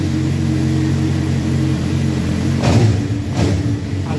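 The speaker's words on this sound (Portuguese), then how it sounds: "Vamos ligar a moto aqui para ver." A Suzuki GSX motorcycle engine running loudly and close, holding a steady mid-low idle before two quick revs near the end.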